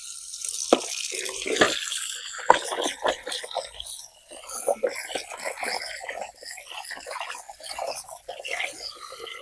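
Close splashing and sloshing as fresh meat on the bone is rinsed in water, with irregular plops, drips and handling clatter, no talking.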